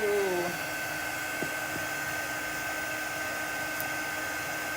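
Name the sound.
dryer drying black chalk paste on a craft project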